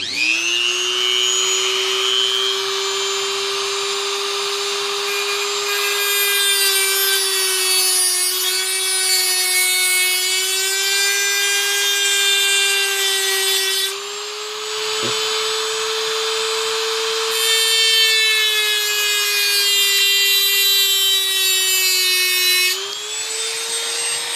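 Small rotary tool spinning a tiny cutting wheel into a custom Hot Wheels Bugatti tow truck model, a steady high-pitched whine with a bright harmonic stack that shifts slightly in pitch as the wheel bites, continuous and close for about twenty seconds.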